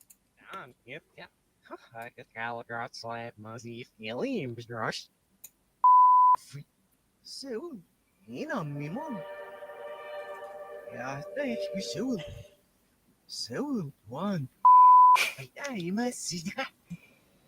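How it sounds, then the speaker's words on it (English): Two short, loud, steady censor-style beeps cut into a podcast conversation about Resident Evil 9, each about half a second long and far apart, with people talking between them. "I was worried about the beeps being too loud"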